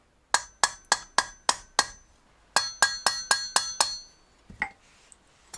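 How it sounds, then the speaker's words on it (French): A motorcycle wheel bearing is hammered into its seat in the hub. Two close bursts of six loud, ringing metallic strikes at a quick, even rhythm are followed by a couple of softer knocks. "le métal va commencer à sonner différemment. Ce sera lorsque le roulement sera au fond de sa gorge."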